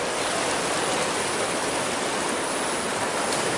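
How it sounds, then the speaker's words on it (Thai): Floodwater from Storm Sonca, built up over two days and nights, flowing along a canal in Kut Rang subdistrict, Thailand: a loud, steady, close rushing roar of water with no pauses and no voices. "น้ำจากพายุเซินกานะครับ ปริมาณน้ำ ก็นี่ครับ"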